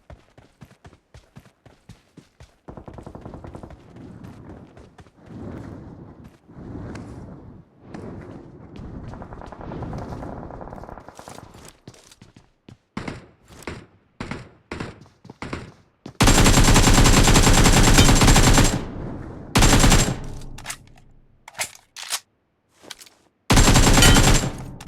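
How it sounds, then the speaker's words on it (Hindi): Gunfire in a battle royale video game, scattered single shots at first, then louder sustained bursts of automatic fire in the second half, close and intense, with pauses between volleys. "मुझे चर्च की तरफ से बंदूक की फायर शॉट्स की आवाज़ें आ रही थी"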